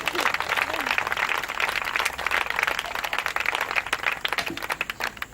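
A church congregation on its feet, cheering and clapping loudly for the Lord in a dense, continuous roar of applause and voices, with sharper individual claps near the end.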